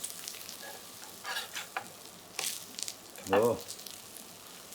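Chicken breast piccata sears in a frying pan, giving a soft, close sizzle with a few brief spatters and a short stirring scrape as it is turned. A man murmurs a brief exclamation over it.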